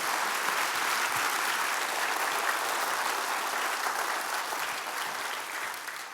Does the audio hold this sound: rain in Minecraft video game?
no